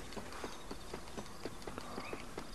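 Horse hooves clip-clop at a steady walking pace in the Western video game Red Dead Redemption, an even run of about a dozen hoofbeats over a constant background bed.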